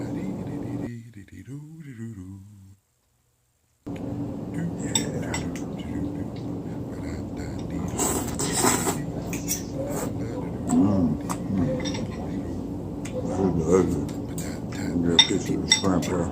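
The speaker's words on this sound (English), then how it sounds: "generally when I eat ramen with a fork and a spoon" A fork and spoon clink against a ramen bowl of hot and sour broth with shrimp and tofu during eating, with scattered light taps and scrapes and a person talking through much of it.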